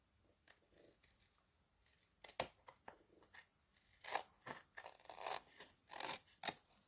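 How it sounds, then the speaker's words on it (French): Scissors cut paper card stock right along its edge, giving faint, scattered snips and crisp crackles that grow busier and louder toward the end, close and quiet, with no speech. "Ce que je vais faire, c'est que je vais venir couper juste au bord."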